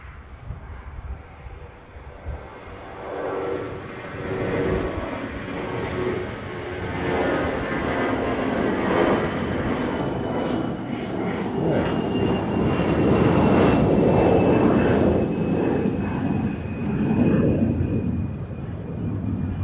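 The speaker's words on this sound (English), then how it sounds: "the next departure is an American. There it is." An American Airlines jet departs LAX on a hazy, overcast day, its engine roar building steadily from a distant rumble to a loud, sustained broadband thunder, peaking near the end of the take-off run with no one speaking.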